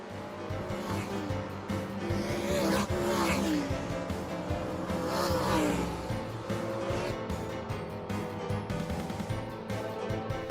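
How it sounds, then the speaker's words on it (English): A pack of race cars pulls away at the green flag in an animated Cars fan film, several engines revving and whining together with layered rising tones, fairly loud and continuous, joined by faint tire noise. "And the green flag is out, and off we go racing."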